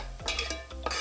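Spice masala with salt for a raw banana curry being stirred in a pan on low flame, a spoon scraping and clinking against the pan in a few short strokes with a faint sizzle, close by and with no talk.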